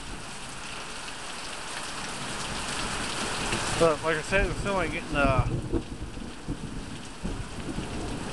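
A summer thunderstorm in Chippewa County, Michigan, brings steady rain and wind over the whole stretch, while someone speaks over it partway through.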